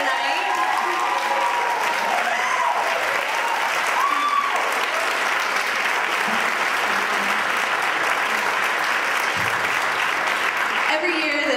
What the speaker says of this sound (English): give you a round of applause for being here tonight